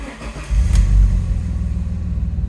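An Alfa Romeo with a Q-system gearbox and 117,000 miles starts up: a quick starter churn catches into a loud, close engine burst, which settles into a rumbling, slightly uneven idle.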